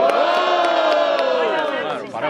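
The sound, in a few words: crowd cheering and shouting at a rap battle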